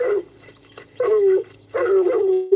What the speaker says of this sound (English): We got dogs. Come on. That's right, they got dogs, man.